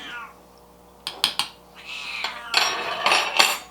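A hungry cat named Junie Moon meows in a home kitchen, several plaintive calls rising in loudness, mixed with a few sharp clinks of dishes or utensils in between.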